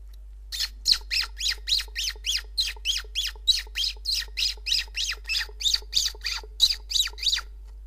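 A voice imitates sparrows with a rapid, steady series of about twenty sharp, squeaky chirps, close and evenly spaced.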